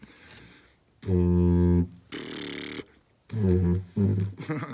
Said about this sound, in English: So didgeridoo is like this. You want to blow with your lips.